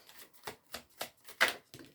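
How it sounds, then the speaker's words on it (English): A deck of cards being shuffled by hand, five or six quick crisp riffling bursts in an even rhythm, close and clear with no talking. "I think I actually want to just shuffle it like this."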